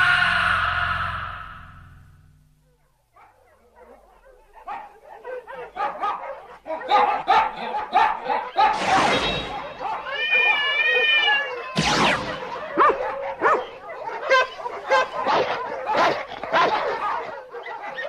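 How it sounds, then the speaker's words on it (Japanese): Several dogs bark and yip at night, a run of sharp, repeated barks with a few whining, higher yelps, close and loud after a brief quiet start. "犬がやかましいの。"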